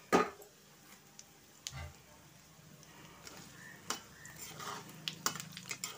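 Cumin, mustard seeds, dal and dried chillies tempering in oil in a pan for a village-style mango pickle, with faint sizzling and scattered spoon clinks and scrapes, quiet and close.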